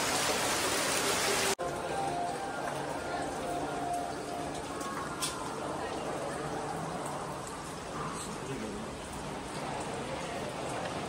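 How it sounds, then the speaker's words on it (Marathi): Steady rain falls around a home in the Konkan, a dense even hiss throughout with a sharp break near the start and faint bird calls in the background. "परत आता चालू झाला पाऊस"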